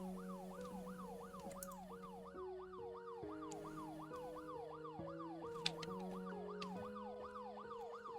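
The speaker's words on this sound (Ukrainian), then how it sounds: "Поліцію чую." A police siren wails in the horror game Fears to Fathom: Home Alone, a steady repeating rising yelp over a low droning tone, continuous and fairly distant-sounding with no talk.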